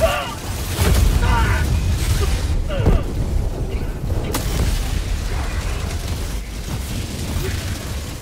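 Heavy explosions and booming gunfire in the video game Helldivers 2, loud rumbling blasts with sharp cracks over continuous battle noise, with a voice talking over it.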